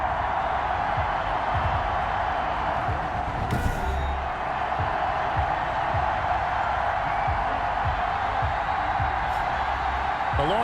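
A large stadium crowd in Madden NFL 21 roars steadily throughout as a dense, continuous wall of cheering, with a brief louder swell near the middle and no other sounds breaking through.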